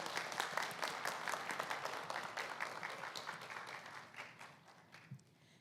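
An audience at a concert hall event applauds after a musical performance, many hands clapping briskly at first, then thinning and fading out over several seconds.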